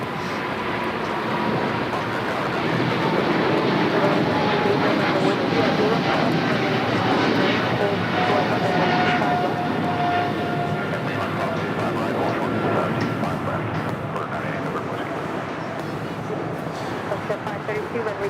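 A Boeing 777-300ER jet airliner bound for Tokyo Haneda roars steadily past at Los Angeles airport, a broad sustained engine rumble with a faint whine that holds loud for the whole stretch, with a voice talking over it.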